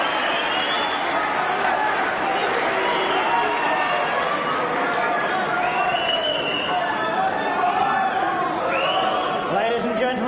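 Noisy snooker crowd at the 1998 Masters final, a dense continuous murmur of many voices with scattered shouts and whoops, steady and loud throughout with no lull.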